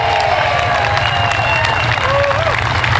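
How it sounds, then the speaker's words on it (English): A crowd at a small-business event in Delaware applauds and cheers, with a loud, continuous wash of clapping and scattered whoops, and voices mixed into the din. "So give yourselves a round of applause."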